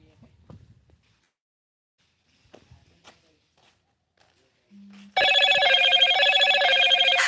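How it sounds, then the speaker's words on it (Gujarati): A phone rings with an incoming call, a loud electronic ringtone starting abruptly after quiet scattered noises and continuing steadily to the end. "ઓકે ઓકે ભાઈ જરાક ફોન આવી ગયો તો"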